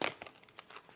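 Die-cut card pieces are popped out of a sheet during papercrafting, giving a string of quick, close crinkling snaps and paper tears in irregular bursts, quiet and without talk.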